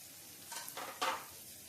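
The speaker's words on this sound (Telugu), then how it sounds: "ధనియాల పౌడర్, ఇదంతా ఒకసారి బాగా కలిపి మిక్స్ చేసుకుందాము" Spices being stirred into a frying egg tawa masala, soft sizzling with two short bursts of spoon scraping against the pan, close and fairly quiet.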